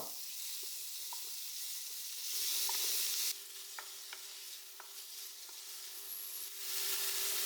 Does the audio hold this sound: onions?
yes